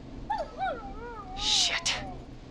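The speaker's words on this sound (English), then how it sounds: "Is that a neighbor's dog?" A neighbor's dog in the game Killer Frequency gives a few high, wavering whimpers and whines, then a short, harsh burst that could be a bark, heard faintly as if from nearby.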